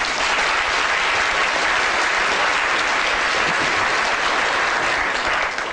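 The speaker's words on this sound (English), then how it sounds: "So I think it's a big round of applause for Albert Einstein." A lecture audience breaks into a big, sustained round of applause, dense and even, filling the room without pause for several seconds.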